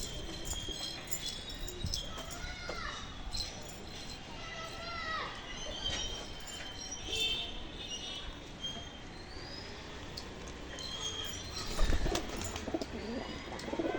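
Pigeons coo softly and repeatedly outside their loft in the sun, amid other bird calls, with a low background rumble and occasional murmur of voices.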